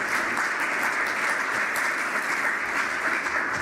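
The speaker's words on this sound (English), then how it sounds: "Can I hear a round of applause for Eric for that?" An audience at a talk on GPL enforcement and OpenWrt breaks into steady, dense applause that holds evenly throughout, close and fairly loud.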